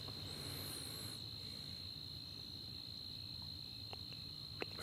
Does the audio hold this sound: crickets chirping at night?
yes